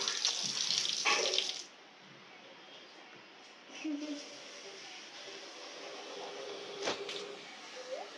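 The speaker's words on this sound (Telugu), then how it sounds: "దాంట్లో నుంచి నీళ్ళు వస్తున్నాయండి." Water pours from a running motor pump, a loud rushing burst for the first second and a half, then a softer steady flow continuing beneath faint voices.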